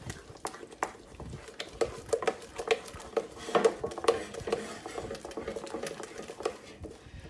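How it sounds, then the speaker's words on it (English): Carrot soufflé batter being stirred in a bowl, a quiet run of irregular clinks and scrapes of utensil against the dish, close by with no talking. "I'm just going to mix it well"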